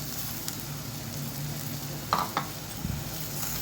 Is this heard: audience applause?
no